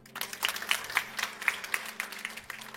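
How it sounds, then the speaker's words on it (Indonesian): A church congregation breaks into applause during a sermon, a steady wash of many hands clapping at moderate distance with sharper individual claps standing out, sustained throughout without pause. "Tuh ditepuk tangan"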